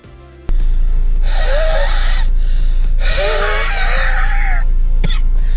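Close, loud, heavy breathing from a runner just after a run who uses an inhaler: two long, rasping, wheezy breaths with a whistling edge, separated by a short gap, over a steady low hum.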